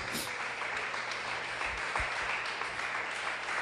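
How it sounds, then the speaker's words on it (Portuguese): A church congregation applauds during a prayer service, steady broadband clapping filling the whole clip at moderate level with faint voices mixed in. "Dê uma salva de palmas para Jesus."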